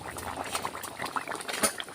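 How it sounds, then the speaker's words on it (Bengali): Chicken curry bubbles and pops in a pot at close range, a quiet irregular patter of small bursts. "টবক টবক করে ফুটছে"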